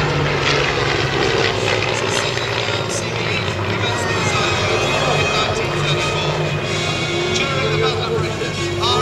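A Spitfire or Hurricane fighter with a propeller engine flies past at the Royal County of Berkshire Show, a loud, steady droning roar sustained throughout while a commentator talks over the public address.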